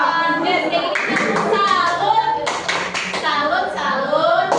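Students at a junior high school do the Indonesian scout clap rhythm together, a loud patterned burst of group clapping with children's voices talking and calling over it.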